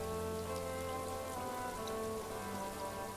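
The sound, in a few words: rain in video game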